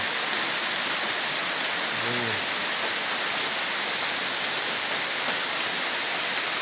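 Heavy, steady rain pours down on a rainy day in Bangladesh, a dense, unbroken hiss filling the whole stretch with no voices.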